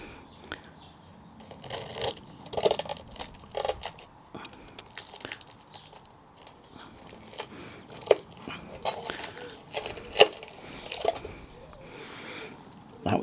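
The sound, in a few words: crunchy bite into crispy camping meal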